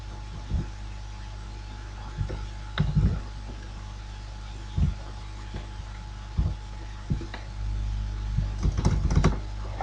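Someone types on a computer keyboard in a quiet room with a low hum. Sparse, soft key clicks come alone or in small clusters, with a quicker flurry near the end.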